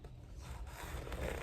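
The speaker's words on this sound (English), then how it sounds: "So I'm gonna score this if I don't cut my finger off." A knife scores the skin of a green, mature luffa gourd harvested for sponge, giving a close, continuous rough scraping that builds slightly louder toward the end of the short cut.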